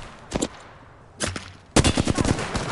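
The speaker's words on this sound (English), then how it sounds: "Getting shot at." Bursts of gunfire in the battle royale game Apex Legends: a short volley, a pause, then a louder, sustained string of rapid shots, close and sharp with no talk.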